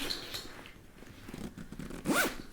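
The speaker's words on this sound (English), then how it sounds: "So I will just zip this back up." A backpack compartment zipper on an Aer Tech Sling 2 is pulled closed, with faint handling rustle first, then one quick rising zip near the end, close and clear.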